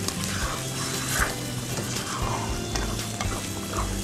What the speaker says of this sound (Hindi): और अब इन तमाम चीज़ों को बहुत अच्छी तरीके से हमने मिक्स करके पका लेना है।